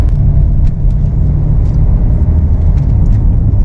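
From inside a BMW X6 M50d E71 xDrive with an automatic gearbox in normal mode, a loud, steady low rumble of engine and road noise runs throughout as the car is driven gently.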